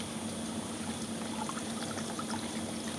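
Water from an RO water purifier's pump output runs in a steady, close flow, a continuous pouring trickle with a constant low hum beneath it throughout.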